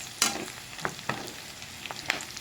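Garlic and onions sautéing in a hot pot: a steady sizzle and crackle, with a few sharp pops and stirring clinks near the start and end, no voices.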